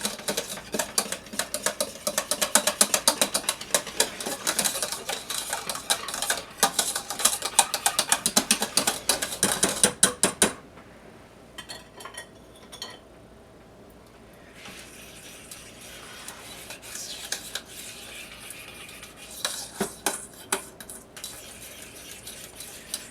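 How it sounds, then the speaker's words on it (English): Cream cheese mixture is stirred in a bowl for a 1976 red, white and blue salad, with rapid clinking and scraping strokes at first, then a quiet pause and softer intermittent stirring. "I'm just mixing it until all the little bits of cream cheese is melted in there"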